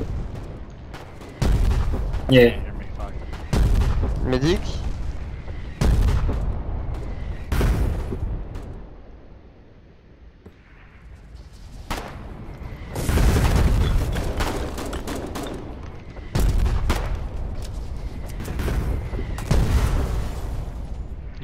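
Heavy 120mm artillery shelling in the war game Foxhole, a series of loud, deep booming blasts at irregular intervals with rumbling tails, while players talk over comms between shots.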